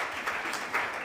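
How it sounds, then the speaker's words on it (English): Audience applause at an annual conference on innovation and entrepreneurship, a short burst of steady clapping from a crowd, moderately loud and continuous with no voices over it. "a round of applause for Honorable Kennedy Ohene Ejapon"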